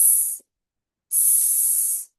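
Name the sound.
voice imitating hissing phonics s sound, like snake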